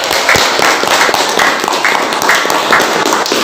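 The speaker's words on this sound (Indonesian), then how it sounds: "Tepuk tangan." Classroom of teachers in a guru penggerak training session breaks into brisk group clapping, with some rhythmic unison claps, fairly loud and close, with no talking.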